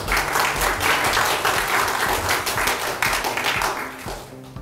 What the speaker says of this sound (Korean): 큰 박수 맞아주시죠